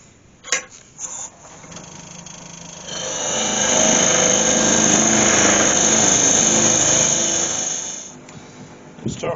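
A wood lathe hollows out a cherry wood vase: after a few knocks, the motor winds up into a loud, steady whirring grind with cutting noise that holds for several seconds, then fades as the tool pulls away.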